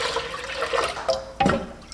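Tap water runs steadily into a big cooking pot being filled with ten cups of water, a continuous close rushing and splashing with no voices.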